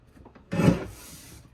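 Cardstock being trimmed to size for a cartography-themed card kit, a single brief rasping cut or slide that sounds close and fairly loud, then fading into quiet room tone.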